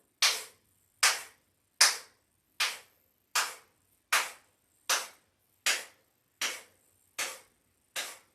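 A yoga instructor's sharp hand claps during a live endurance yoga session, eleven single claps spaced about three-quarters of a second apart, each crisp and close with quick decay over near silence.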